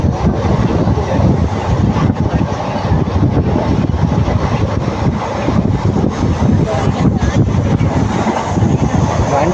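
Loud, steady rumble and wind roar from inside a moving train running between Dindigul and Madurai, with continuous rattling and rushing air throughout and no pauses.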